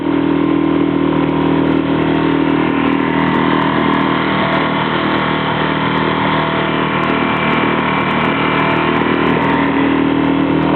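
An outboard motor on a ten-foot Zodiac inflatable boat drones steadily and loudly throughout on New York's East River at Hell Gate, with a constant buzzing hum and a faint crackle on top, no voices.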